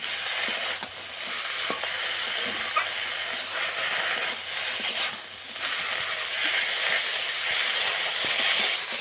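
A paste of gourd leaves with shrimp sizzles hard in a pan while it is stirred and water cooks out of the greens, making a dense, steady hiss with scraping strokes, close and continuous.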